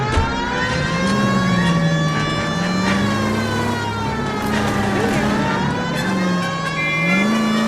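An engine drives steadily in L.A. Noire, a steady, loud, near motor hum with a wavering pitch that rises and dips as it accelerates, alongside a continuous rising and falling siren wail.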